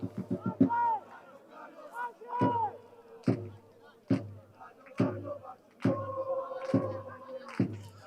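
Football supporters in the stands chant and sing in rhythmic bursts, heard at a distance beneath a close commentator's voice, with sharp percussive thumps punctuating the crowd noise.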